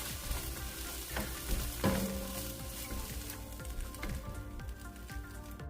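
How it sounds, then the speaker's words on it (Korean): Seasoned vegetable side dishes with sesame salt and a little green onion stir-fry over medium heat in a pan, a steady close sizzle with scraping and stirring clatter throughout and no talking. "4분 후 깨소금 1큰술과 대파 약간을 넣고 중불에서 조금 더 볶아주세요."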